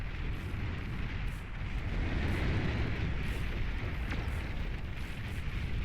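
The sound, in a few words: Tremor artillery explosions in Beyond All Reason video game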